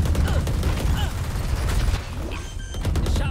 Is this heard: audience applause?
no